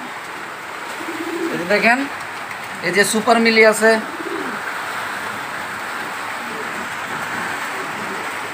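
Racing pigeons coo in a loft, with a few soft bird calls rising briefly in the middle while someone talks over a steady background hum.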